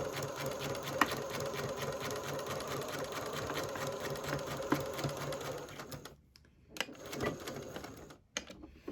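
A sewing machine stitches tulle on a ribbon-trimmed tutu, running as a steady close whirring stitch for about six seconds, then stopping and starting in brief bursts with gaps.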